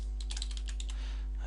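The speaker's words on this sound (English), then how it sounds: "all you do is you start typing" Quick bursts of typing on a computer keyboard, a brief cluster of close, light key clicks followed by a pause.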